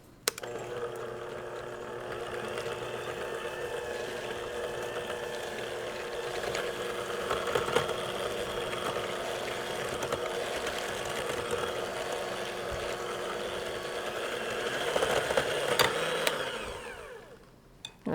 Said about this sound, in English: I got my little hand mixer over here, and we're going to beat that until it's pale and creamy